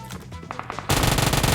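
Rapid automatic gunfire in PUBG Mobile cuts in abruptly after quieter game sounds, a loud, dense, close burst of shots that carries on to the end.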